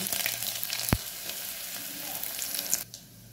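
Mustard seeds, cumin, crushed garlic and curry leaves crackle and sizzle in hot oil for a vegetable sambar tempering, a bright, busy spatter with a sharp pop, fading quieter at the end.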